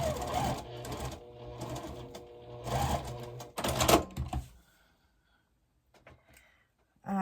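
Domestic sewing machine stitching a quilt block made from quilting fabric, with loud rapid mechanical bursts for about four seconds and then quiet, broken only by faint handling clicks.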